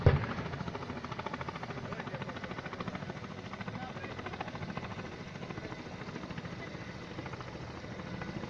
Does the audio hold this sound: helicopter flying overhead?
yes